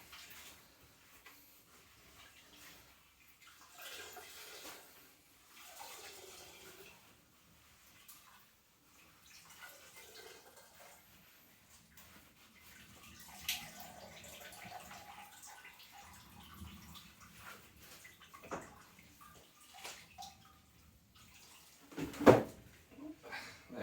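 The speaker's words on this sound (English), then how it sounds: "Good squeeze, get that liquid out." A heavy bag of spent mash grain for a Belgian Dubbel beer is squeezed over the pot, sending wort streaming and dripping back in repeated close, fairly quiet surges, with a brief sharp knock near the end and no talking.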